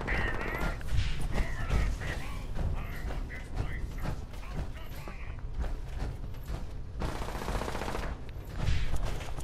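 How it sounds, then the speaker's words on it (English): Gunfire in the Fallout 76 video game crackles in irregular bursts and single shots amid mechanical clatter, mid-distance, with a louder burst near the end. "But that's gunfire"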